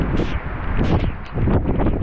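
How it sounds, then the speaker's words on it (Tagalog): Strong wind gusts buffet the microphone in a loud, low rumble that surges and eases over a couple of seconds. "Oh, grabe yung hangin, oh."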